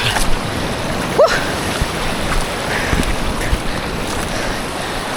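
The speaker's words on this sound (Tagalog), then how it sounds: "Ang lakas ng agos niya sa gitna eh." Strong water rushes around a small fishing boat out on the water, a continuous broadband wash mixed with wind buffeting the microphone, with a brief squeak partway through.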